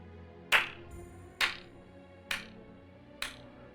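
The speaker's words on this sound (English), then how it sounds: "And you hear this clapping." Four slow, evenly spaced claps ring out sharply over a low background hum, played as a sound effect during a tabletop role-playing game session.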